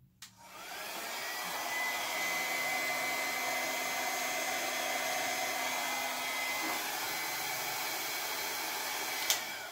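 A mini dryer blows steadily and loudly up close over acrylic pour paint, a continuous airy whooshing hum that begins abruptly and holds for several seconds, ending with a brief click.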